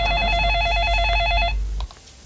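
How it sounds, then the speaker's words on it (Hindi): A telephone rings loudly with a steady warbling electronic trill, then cuts off abruptly partway through, leaving quiet room tone. "ऐश्वर्या, क्यों मुझे बार बार फोन कर रही हो?"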